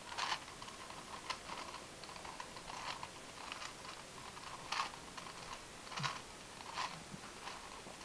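A Gear Cube twisty puzzle is scrambled by hand, giving faint plastic clicks and clacks in irregular bursts over a steady background hiss.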